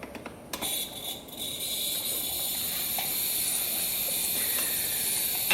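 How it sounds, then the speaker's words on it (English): The steam wand of an affordable household espresso machine hisses in a steady, moderately loud stream after a few brief clicks, with no talk. "switch to steam"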